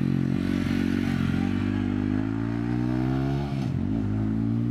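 A TVS Ronin scrambler motorcycle leans through Alpine corners, its steady engine note droning loud and close with a dip and shift in pitch near the end.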